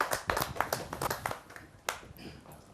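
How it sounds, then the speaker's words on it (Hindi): Audience at a Hindi kavi sammelan claps to welcome a poet, a loose burst of individual hand claps that starts strong and thins out into scattered claps. "जोरदार तालियों के साथ हम उनका स्वागत करें"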